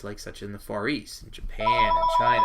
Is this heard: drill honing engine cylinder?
no